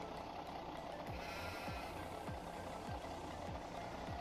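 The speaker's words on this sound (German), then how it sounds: "Schafe haben wir bloß." Sheep bleat in the farming video game Landwirtschafts-Simulator 17, a faint, quiet flock whose short falling calls repeat roughly every half second over a steady low background hum.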